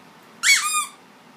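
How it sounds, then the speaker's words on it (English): A squeaky dog toy gives one short, loud, bright squeak with a rising-then-falling pitch against a quiet room, with no talking. "Another squeaky one."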